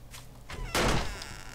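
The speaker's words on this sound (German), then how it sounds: "Ich mach die Tür auf, in dem Moment knallt die" A door slams shut with a single loud thud in the video game 7 Days to Die, preceded by softer knocks and a quiet background.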